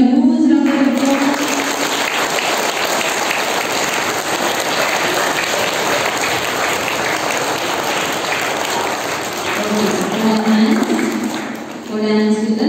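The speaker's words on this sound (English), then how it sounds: "All give them a huge round of applause." A school audience gives a long round of applause for primary students at an installation ceremony, a dense, loud wash of clapping with voices audible at the start and end.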